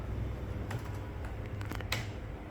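Someone typing on a computer keyboard while entering data into a form, a few soft scattered key clicks and a sharper press near the end over steady low hum, quiet and close, with no talking.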